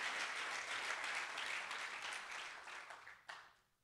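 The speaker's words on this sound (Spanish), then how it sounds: "Dele fuerte el aplauso al Señor." A church congregation applauds during a sermon, a dense wash of clapping that holds steady for a few seconds, flares with one last burst near the end and then fades away.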